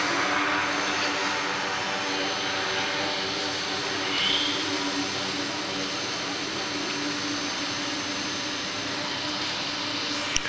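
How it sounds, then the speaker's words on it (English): D Stock hydroplane race boats on Spanaway Lake drone steadily at a distance, a continuous buzzing motor roar holding level throughout with no talk. "don't let the sound of the motors fool you. These boats are actually well over 80 miles an hour probably on this Spanaway Lake today."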